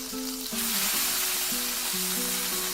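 A patty melt cheeseburger patty sizzles steadily on a hot griddle as it is flipped, the close frying hiss running continuously under a low repeating hum.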